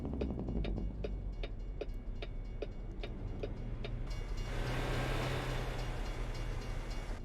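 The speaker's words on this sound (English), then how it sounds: "I heard the train, but I didn't see the train" Passing train in the truck-driving game American Truck Simulator: rhythmic clacking of wheels over rail joints at a steady beat, then a broad rushing roar as the cars go by, faint and heard over a low engine drone.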